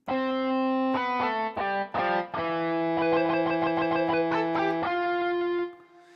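Overdriven lead guitar preset in the n-Track Studio app plays a short distorted melodic phrase of sustained, buzzy notes with crisp attacks, ending in a held tone that cuts off.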